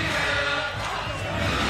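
Basketball crowd at a FIBA 3x3 World Tour final in Jeddah, a dense, steady roar of cheering voices filling the arena, loud and continuous with no single voice standing out.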